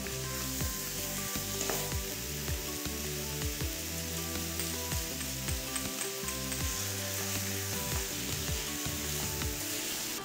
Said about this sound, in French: Quand ils sont translucides, j'ajoute mon bœuf haché.